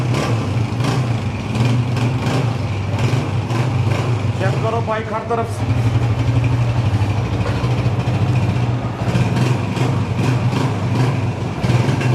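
A used Honda 125 motorcycle engine runs with a steady low idle thump, loud and close, with someone speaking over it partway through and the engine continuing evenly throughout.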